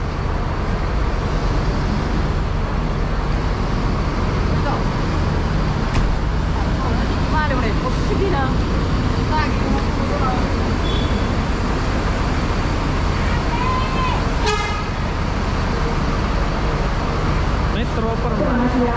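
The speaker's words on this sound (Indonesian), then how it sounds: "Bus baru dari Manggala Trans." A busy Makassar Daya bus terminal carries steady traffic and bus engine noise, with a new Manggala Trans bus among the idling vehicles and scattered squeaks and clanks around it.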